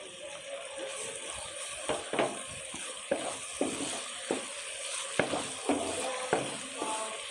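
Kaleji masala, liver pieces frying in a pan, sizzles steadily with repeated clinks and scrapes of stirring throughout.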